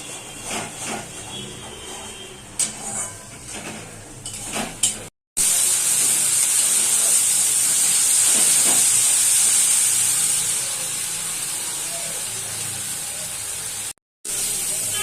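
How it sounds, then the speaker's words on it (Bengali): Spice paste and tomatoes fry in hot oil. Some scattered stirring noises come first, then a loud, steady hiss of frying that eases slightly toward the end. "মশলাটা অনেকক্ষণ ধরে কষাতে হবে, যাতে কাঁচা গন্ধটা না আসে।"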